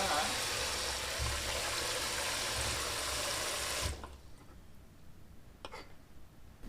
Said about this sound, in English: Now we're going to take them inside, rinse them off, and get them ready to juice.